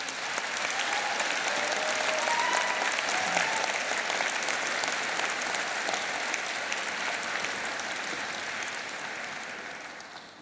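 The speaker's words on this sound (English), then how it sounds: "you all deserve a round of applause from the students" A graduation ceremony crowd at UCLan gives a long, sustained round of applause, dense clapping from many hands filling a hall and gradually tapering toward the end.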